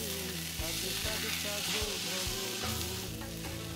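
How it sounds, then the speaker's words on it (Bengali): Minced fish mixed with spices sizzles in a pan over raised gas heat, a loud, steady frying hiss broken by occasional stirring scrapes. "মাছটা এবার মশলার সঙ্গে মিশিয়ে একটু গ্যাস বাড়িয়ে ভাজা ভাজা করে নিচ্ছি"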